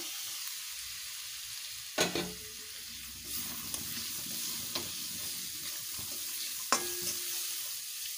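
Peanuts and chickpeas cook in a little oil with a faint, steady sizzle. Scattered scrapes and taps of a spatula against the pan come through, with sharper knocks at a few points.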